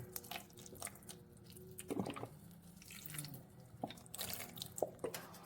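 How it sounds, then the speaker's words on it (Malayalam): Vinegar is poured into a warm pineapple pickle mixture with jaggery, giving soft liquid splashes and trickles with a few clinks and drips, faint and close, with no talking. "നമുക്ക് വിനാഗിരി ഒഴിച്ചു കൊടുക്കാം."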